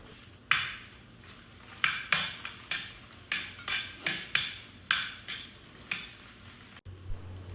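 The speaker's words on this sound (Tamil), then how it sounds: "குட்டியாக மினி தோசையும் ஊற்றிட்டேன்" Mini dosa batter cooks on a hot pan with a steady run of about a dozen crisp, hissing scrapes and sizzles, each swelling and fading in a regular rhythm, close and clear with no talk.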